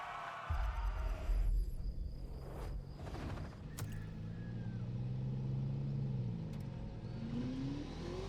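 A Bugatti being driven in The Crew, its engine kicking in loudly then droning and revving with pitch sweeps, near and steady, over a faint insect-like chirp in the background.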